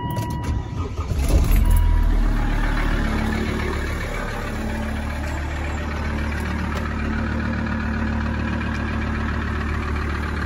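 Diesel engine of a Volvo S80 idling just after a cold start at five degrees with glow plug preheat, a steady low rumble that surges briefly at first and then settles into an even, close drone.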